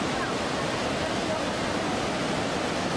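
Iguazu Falls on the Brazilian side pours down in a constant, dense rush of water, a steady broadband roar with no pauses or changes.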